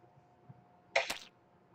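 An enemy dies in a tower defense video game, giving one short, bright burst of effect sound that stands out against a quiet background.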